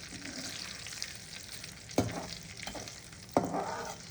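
Chicken podi ingredients, starting with curry leaves, fry in hot oil with a steady crackling sizzle, broken twice by sharp scraping stirs of a spoon against the pan.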